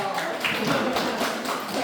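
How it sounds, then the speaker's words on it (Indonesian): An audience at a school cultural-festival briefing claps, a brisk, fairly close patter of hands with scattered sharper taps, running continuously throughout. "Tepuk tangan dulu dong."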